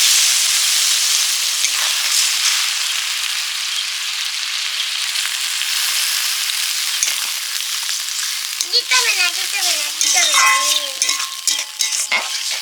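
Water splashes into ginger and spices frying in a pan, setting off a loud, close, steady sizzle, with a few clinks of stirring and some squeaky scraping near the end.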